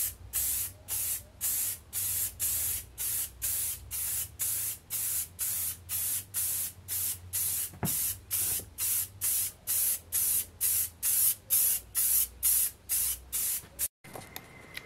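An aerosol spray can paints the front of a 1961 Cushman Truckster being converted to electric, giving about two dozen evenly spaced, close hissing bursts with short pauses between them and no talking.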